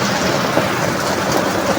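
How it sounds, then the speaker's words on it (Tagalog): Heavy rain pours down in a dense, steady hiss, loud and close, drumming continuously on nearby surfaces without any talking. "Oh, silong muna kayo, naulan."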